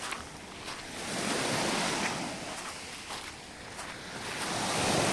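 Sea waves wash onto a city beach in slow, rolling surges, with gusts of wind buffeting the microphone.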